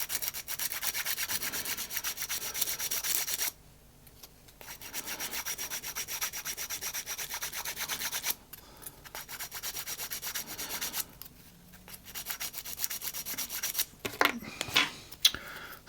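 Abrasive is rubbed back and forth on the boiler of a DJH 2MT 2-6-0 model locomotive kit, close rasping strokes in long bursts separated by short pauses.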